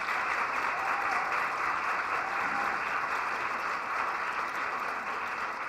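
Large audience at a Sookmyung Women's University anniversary lecture applauding to welcome the Seoul mayor: an even, sustained wash of clapping heard from a distance, with no pause.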